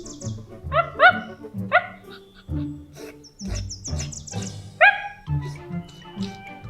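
A dog barks several times in short, high yips, close by, with whimpering notes between barks and some background music.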